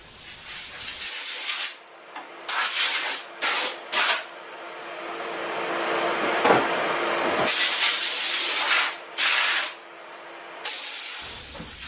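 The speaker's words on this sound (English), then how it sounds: "we're going to put a coat of primer on this thing" Spray can or spray gun hissing in several bursts as primer goes onto a sanded wooden dresser, some short puffs and some longer sustained sprays, close and loud with no talking.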